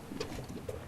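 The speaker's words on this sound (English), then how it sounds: "Oh, look. There's a bird." A pigeon or dove cooing outdoors at Yellowstone, soft low repeated coos, faint and somewhat distant against a steady background rumble, with no talk.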